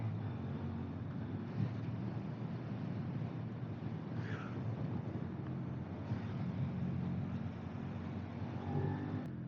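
A Suzuki SV 650 motorcycle engine drones steadily while riding, partly buried under constant loud wind rush, with no voices.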